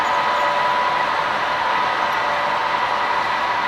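The Plainsman, passenger train number 18, rolls past with a steady, loud, broadband roar of wheels and cars that holds even throughout, with no voices.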